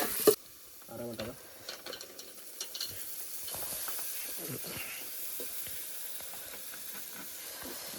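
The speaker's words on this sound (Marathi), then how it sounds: "कांदा आणि मिरची एकदम फ्राय करून घेतो थोडा" Onion and chilli frying in oil in a pot during an outdoor cooking session, giving a soft, steady hiss and sizzle with occasional scrapes and clinks of stirring, fairly faint with brief low voices early on.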